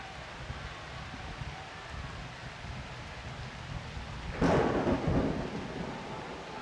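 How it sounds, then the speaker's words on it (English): Steady rain patters over a pitch in the Blood Bowl 2 video game, and partway through a near thunderclap bursts out loudly, then rumbles and fades back into the rain, with no one talking. "Still raining."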